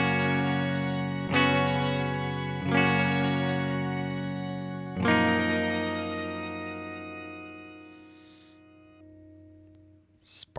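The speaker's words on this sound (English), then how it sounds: "So this is kind of like a shimmer reverb." Several electric guitar chords are strummed, each ringing into a bright, sustained shimmering wash of reverb that slowly fades, with no voices.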